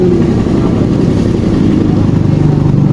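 A Honda Beat FI scooter with a stock engine that ran dry of oil chugs close and loud with a rapid, rough pulsing throb throughout.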